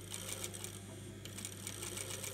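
Rapid, even bursts of a home sewing machine stitching down the sides of a fabric dust mask, stopping briefly midway before running again, close and moderately quiet.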